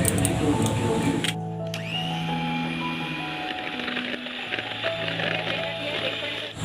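An electric blender whirs steadily as it beats cracked eggs for a chocolate cake, its motor whine shifting pitch briefly and then running on without a break.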